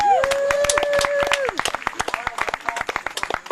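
Audience applause for a folk singer at a live event, a dense burst of many hands clapping, fairly loud and continuous at first, then thinning into scattered claps, with whistles or cheers over the top.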